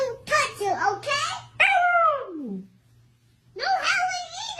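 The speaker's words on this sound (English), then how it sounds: "No howling either." A puppy howls in long, rising and falling wails, two bursts separated by a short gap, close to the microphone with a faint steady hum underneath.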